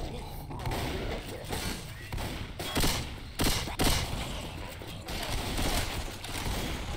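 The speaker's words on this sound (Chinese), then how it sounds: "有那个爆炸。 Boomer ball。" Explosions from a Boomer ball in the video game Death Stranding: a few heavy broadband bursts and thuds in quick succession mid-clip, over a constant busy game noise bed, with talk mixed in.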